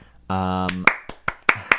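Hands clap sharply close to a microphone, four crisp spiky claps in a loose rhythm following a short sung or hummed tone.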